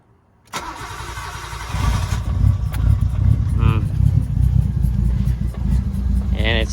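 A car fitted with an aftermarket turbo and intercooler cranks briefly, fires up and settles into a rough, uneven idle, close and loud; a voice talks over it.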